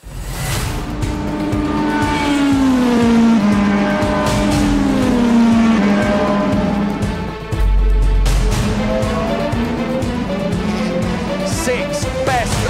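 Race cars in a Mercedes-AMG eRacing sim racing video game final, engines revving and shifting through gears with a brief tire squeal, loud and continuous throughout with no talk.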